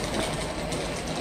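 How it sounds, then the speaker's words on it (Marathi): A train rumbles at a railway station platform, producing continuous close, loud, broadband rolling noise without any talk. "लोंड मालमोला जाणारी ट्रेन इथे येणार आहे"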